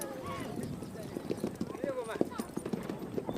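Mongolian horses clip-clopping, a quick irregular patter of hooves close by, with voices speaking over the steps.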